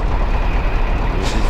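Peterbilt 351 truck engine in American Truck Simulator, a steady low diesel rumble filling the short stretch, with a brief hiss near the end.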